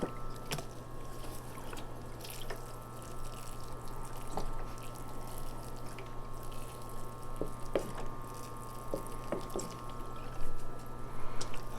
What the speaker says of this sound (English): Let me take my bottle and give it a good soaking.